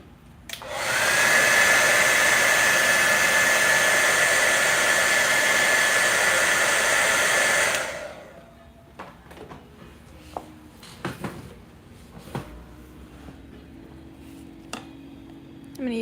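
A hair dryer roars loud and close for about seven seconds while drying paint on a painting, then cuts off, leaving scattered light taps and handling clicks.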